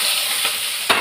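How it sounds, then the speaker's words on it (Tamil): Onions and curry leaves sauté in a pan over mustard seeds, a steady close sizzle with a brief scrape of stirring near the end. "நல்லா வதக்கணும்."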